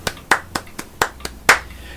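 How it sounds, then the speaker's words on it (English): Bare hands clap seven times in a quick, slightly uneven rhythm, sharp and close, with silence between claps and no talking. "If other people clapping their hands,"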